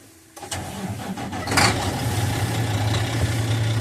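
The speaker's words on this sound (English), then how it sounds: "Now I'm going to go ahead and start the truck all the way up." A truck engine cranks briefly and catches, then settles into a steady, low diesel idle rumble close by.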